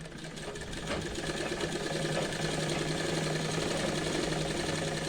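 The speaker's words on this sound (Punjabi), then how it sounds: "ਉੱਥੋਂ ਲੈ ਕੇ ਤੇ ਆਪਾਂ ਸਲਾਈ ਲਗਾਵਾਂਗੇ" A sewing machine runs steadily while stitching the pocket onto a salwar, a continuous close mechanical whir and hum with no pauses and no speech.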